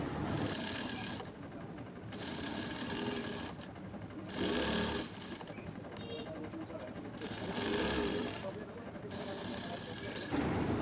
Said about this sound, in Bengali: শোল্ডার জয়েন্ট কমপ্লিট এখন উপরে একটি চাপ সেলাই বসিয়ে দিব